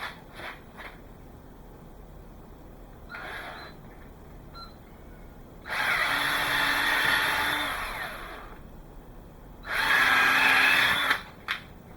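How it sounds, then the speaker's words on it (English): A power drill bores pilot holes into wood for a DIY wooden indoor dog or cat pen, with two loud sustained whirring bursts of a few seconds each and some faint clatter between them. "So we've got all the pilot holes drilled for that."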